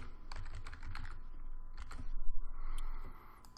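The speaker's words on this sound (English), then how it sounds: "I'm going to type in the title of my first section" Fingers tap out a short heading on a computer keyboard, a steady run of close, crisp key clicks with brief pauses between bursts, heard alone in a quiet room.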